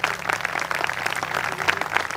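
An audience claps steadily to welcome a tabla player at a folk-song performance, a dense, continuous burst of applause from a crowd heard fairly close.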